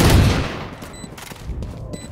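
Valorant video game gunfire crackles in quick bursts of sharp shots over a dense, noisy background, loud and close.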